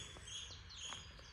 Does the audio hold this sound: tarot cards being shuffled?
no